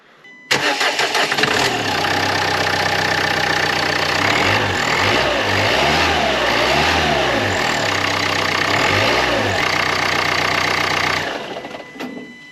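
A Dacia Duster 1.5 dCi diesel engine cranks and catches, then settles into a steady, loud clattering idle close by for about ten seconds before cutting off, with no talk over it.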